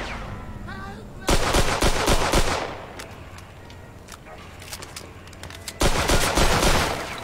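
Automatic gunfire in the Mafia 2 video game, sharp bursts of machine gun rounds in two loud volleys with scattered shots between, set against a steady background hum.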